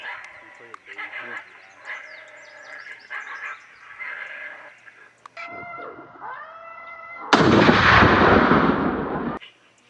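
A rifle shot fired during a coyote hunt in East Tennessee cracks out as one loud, close blast with a long roaring tail, following softer calling sounds.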